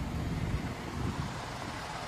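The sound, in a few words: wind blowing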